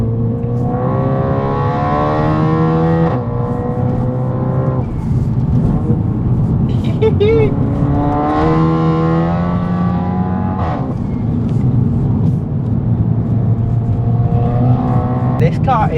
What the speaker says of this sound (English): let's go for a drive in the TT.